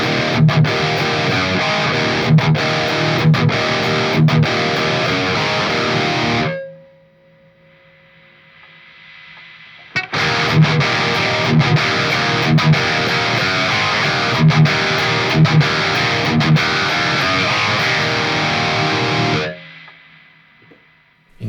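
An electric guitar played through a MAS Effects ISVRÅL overdrive pedal gives loud, buzzing distorted chords and riffs in two long bursts, separated by a quieter gap with a faint sustained tone and a noisy hiss.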